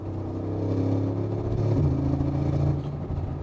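A 700-horsepower Brabus G700 based on the G63 AMG idles through its side exhaust pipes, a steady deep rumble heard close with a slight rise in revs midway.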